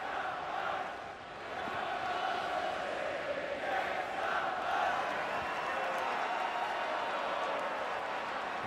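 Timbers Army supporters fill the stadium at the 2014 MLS All-Star Game with a steady, loud wash of crowd noise. Their chanting voices blend into one sustained roar that holds without a break.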